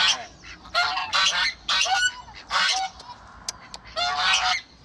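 Geese honking at a rural farmyard where ducks and chickens are kept, a series of loud, nasal honks in overlapping bursts, close by, with no talking.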